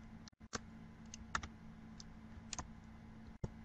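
Keys on a computer keyboard tapped in a quiet room, a few sparse soft clicks spread out irregularly, faint and close.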